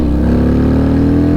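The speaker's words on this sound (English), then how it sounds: "I cannot wait to get a proper exhaust on this thing. I mean, it already sounds good." A Harley-Davidson FXDR engine revs close and loud, a brief steady roar that swells slightly and then eases off, with no voices.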